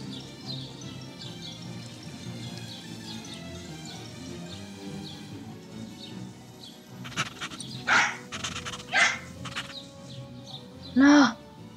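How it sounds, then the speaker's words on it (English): A small dog in the Nancy Drew: Resorting To Danger video game yips several times, short high sharp barks spaced apart over a steady outdoor bed of game ambience with chirping birds. "You are a very fast little dog."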